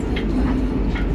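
Interior of the moving KA Bima luxury sleeper train in Indonesia, a loud steady low rumble with faint periodic ticking and rattling over it.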